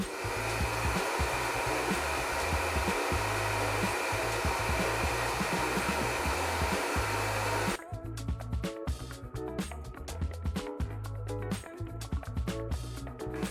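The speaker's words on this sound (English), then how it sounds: "that's why we'll be using this hair dryer to loosen that glue from the screw." A hair dryer blows hot air onto the glued screws of an INOKIM Light scooter in a steady, loud, close whoosh that runs the whole time, its tone shifting partway through as the airflow is moved or blocked.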